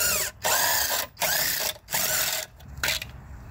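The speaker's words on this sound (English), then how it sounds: "we gotta use a drill, make this easier on ourselves" A power drill whirs in loud bursts while backing out the brake cover bolts on a 2003 Chevy Malibu's front wheel. Four or five sustained runs are broken by brief pauses, and no one speaks.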